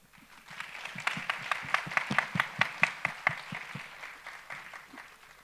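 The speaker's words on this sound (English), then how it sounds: "I think Art of Living needs an applause for that" Audience applause at a talk, starting softly, swelling into a rhythmic run of distinct claps in loose unison, then thinning out near the end.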